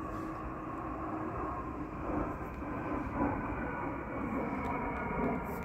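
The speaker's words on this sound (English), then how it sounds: "I wonder where that jet is flying to." Jet airplane flying overhead outdoors under a stormy summer sky, a steady broad engine roar that holds at an even, moderate level throughout with no speech.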